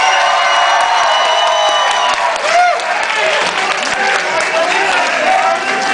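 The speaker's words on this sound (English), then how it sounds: "Give me a round of applause." Concert crowd at a punk show in a New York venue applauding and cheering, with loud sustained clapping, whoops and shouts filling the room.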